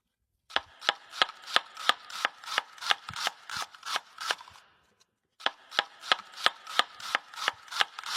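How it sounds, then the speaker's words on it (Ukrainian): Knife slicing a halved onion into half rings on a board, a quick regular series of close crisp cuts, one short pause, then the chopping resumes at the same pace. "Ось так ріжемо цибулинку на половинку та просто нарізаємо півкольцями."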